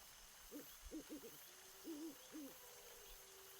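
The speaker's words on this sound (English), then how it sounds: "Besides the sound of owls or" An owl gives several soft, low hoots in quick little groups, then a few slower ones. It sounds distant against a faint, steady hiss of nighttime background.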